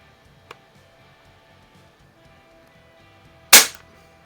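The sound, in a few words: Umarex Ruger APX NXG pump action .177 pellet rifle shots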